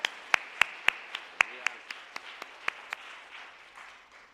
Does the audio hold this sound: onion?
no